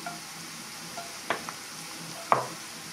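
Oil heats in a frying pan before prawns and mushrooms go in, giving a soft, steady low sizzle with two sharper clicks or pops partway through.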